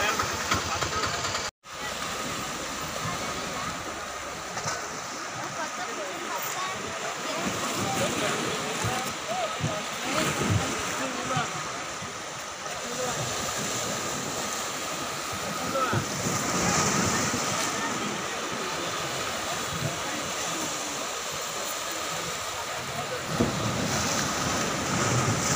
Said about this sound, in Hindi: और ये है पीछे समंदर पूरा, बहुत ही मस्त नज़ारा